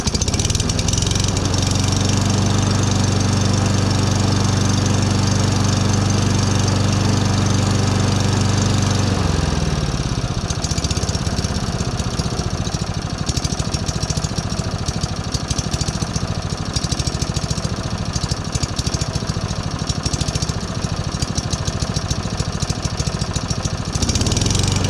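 A Spear and Jackson 21-inch lawn mower engine runs loudly and continuously, first in a deep steady drone, then shifting to a rougher, rattling beat about midway, with no talking.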